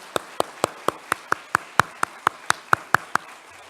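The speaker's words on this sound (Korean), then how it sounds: "박수로 우리 목사님 맞이하고 말씀 듣겠습니다" In a church service, a congregation welcomes the pastor with steady rhythmic clapping: about fifteen crisp, evenly spaced claps in unison, close and distinct.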